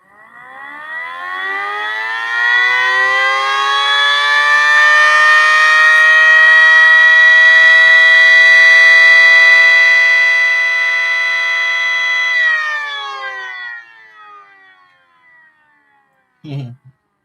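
A small 3D-printed SD-10 civil defense siren winds up into a loud, wailing rising tone, holds steady for several seconds, then spins down and fades, followed by a brief knock.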